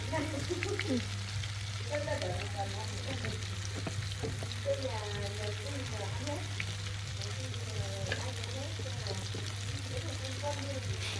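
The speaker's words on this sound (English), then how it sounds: "I cut the tofu into bite-sized pieces and placed them into a pan of hot oil." Bite-sized tofu pieces frying in a pan of hot oil, a steady soft sizzle and crackle throughout with a low constant hum underneath and a person talking over it.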